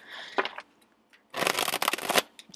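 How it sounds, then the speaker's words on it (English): Tarot cards are shuffled close up in two quick bursts of riffling, a short one followed by a longer, louder run, with quiet pauses between them. "I need to shuffle one more."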